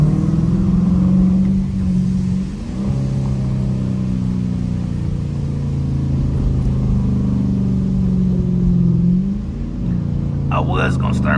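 Dodge Challenger R/T engine droning steadily while driving at night in the rain, a loud, close, continuous rumble with slight pitch shifts as it accelerates, with someone talking over it.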